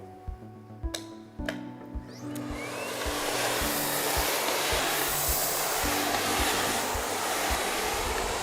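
A Miele Complete C3 vacuum cleaner set for hard floors clicks and thumps a few times, then whooshes up into a steady loud airy roar that carries on to the end.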